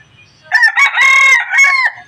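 A rooster crows once, loud and close, a drawn-out call rising and falling over about a second and a half.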